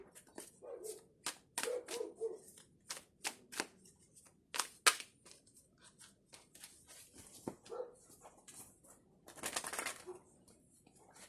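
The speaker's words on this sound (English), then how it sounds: "I hope you don't mind the dog barking, if you can hear it." A dog barking indoors in the background, faint and intermittent, with scattered short yaps and sharp clicks and rustles around it.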